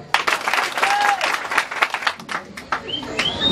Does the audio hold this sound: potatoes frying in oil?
no